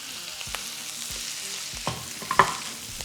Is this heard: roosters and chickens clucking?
no